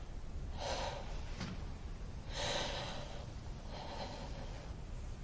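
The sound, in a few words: deep breathing in and out during chest examination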